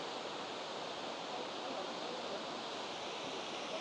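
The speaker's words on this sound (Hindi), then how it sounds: "देख सकते हैं बीरथी वाटरफॉल," Birthi waterfall in the mountains near Munsiyari, heard as a steady, even roar of rushing water with no breaks and no voices.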